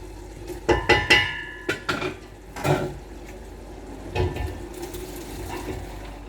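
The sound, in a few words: pouring yam and beans porridge ingredients into pot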